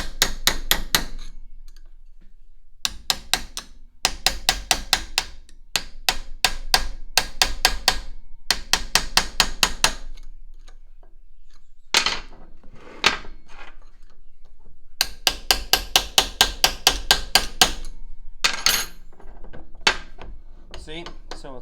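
Repeated metal-on-metal hammer strikes on punches held against a vintage Reed steamfitter bench vise during restoration, coming in quick rhythmic bursts separated by short pauses, close and sharp.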